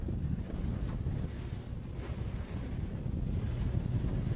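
Wind blows steadily during a sailing championship race, a constant low roar with buffeting on the microphone, loud and close, and no talking.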